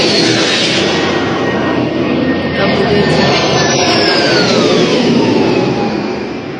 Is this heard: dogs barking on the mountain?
no